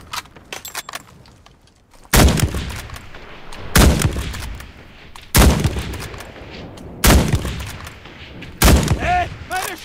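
Five sharp, booming Kar98k bolt-action rifle shots from the video game Enlisted, evenly spaced about every one and a half seconds, each with a ringing tail, with faint clicks between shots.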